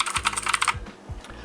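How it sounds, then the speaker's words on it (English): Redragon K551 mechanical gaming keyboard with tactile, clacky switches, a quick burst of close, crisp keystrokes in a rapid run, then a few scattered clacks. "with tactile, clacky switches. It's not quiet, and that's what I like, the tactile feedback."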